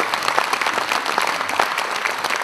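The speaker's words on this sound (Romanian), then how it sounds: "Aplauze pentru toată cariera în sale." Enthusiastic audience applause at a folk music and dance gala, a dense, loud burst of many people clapping that continues steadily throughout.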